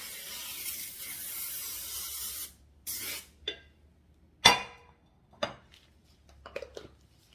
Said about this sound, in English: I'm just going to spray them with the cooking spray